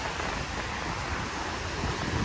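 Broad, steady roar of big ocean waves at Shankarpur beach, a continuous wash of surf and wind with no distinct breaks, fairly loud and even throughout.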